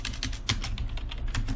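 Rapid clicking keystrokes as a name is typed on a computer keyboard, close and steady with a brief louder tap partway through, alone without talk.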